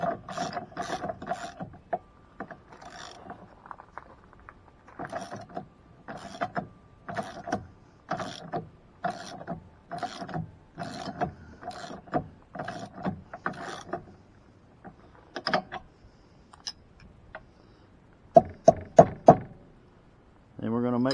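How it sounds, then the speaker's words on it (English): A wrench and socket ratcheting on camper jack bolts, with bursts of quick clicking strokes repeated in a steady rhythm, then a few sharper louder clanks near the end, close by, with a person talking at times. "we'll get our wrench and our socket, and we're going to start tightening"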